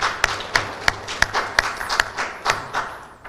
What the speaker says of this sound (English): So please, a round of applause for Mr.